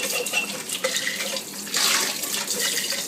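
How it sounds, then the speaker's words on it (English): Tap water runs and splashes at a kitchen sink as glass jars are washed in soapy water for pickling beets, a close, continuous rushing with small sloshes. "Let's wash it with the soapy water, and we will still have to sterilize these."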